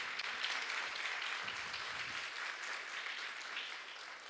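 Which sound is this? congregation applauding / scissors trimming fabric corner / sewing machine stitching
congregation applauding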